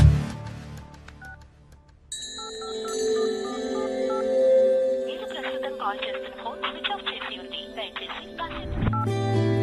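A telephone number being dialed: a quick run of keypad tones, then a sustained ringing tone with pulsing electronic beeps, and a voice briefly audible near the end.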